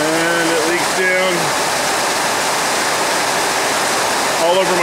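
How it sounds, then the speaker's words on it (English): Water pouring from a leaking carport roof onto a truck, a dense, close, unbroken rain-like rush, with someone talking over it at the start and again at the end. "You can see it dripping on my truck right now."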